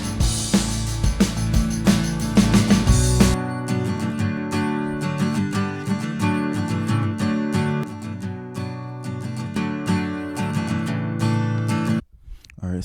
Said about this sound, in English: today we're going to be dealing with the acoustic guitars.